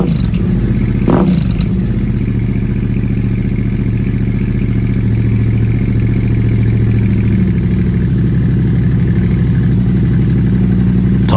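A Yamaha Tenere 700 revs on a Camel ADV high-mount exhaust with the silencer removed, a loud, raw, close-up engine burble with a deep steady idle, one sharp blip early on and rough mechanical clatter throughout.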